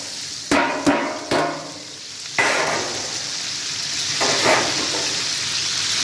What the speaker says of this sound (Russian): Теперь добавляю овощи.